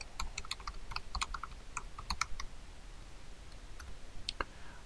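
Rapid irregular keystrokes clatter on a computer keyboard as keywords are entered by hand, crisp clicks in quick bursts with short pauses over a quiet room hum.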